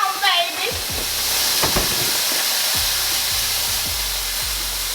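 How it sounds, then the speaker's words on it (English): Green beans hitting a hot skillet produce a sudden loud hiss that settles into a steady bright sizzle, with a few faint clinks of a utensil stirring in the pan. "You ready for the sizzle? Here we go."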